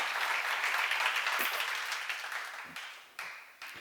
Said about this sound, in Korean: 박수로 영화하세요.